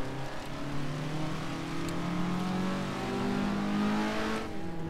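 An Alfa Romeo Giulia GTA accelerates in Assetto Corsa, a steady engine note rising in pitch as it revs through a gear, with faint tire noise and no speech.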